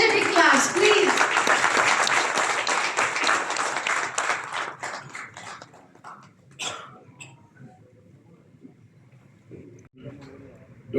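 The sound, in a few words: audience applause welcoming a minister at a conference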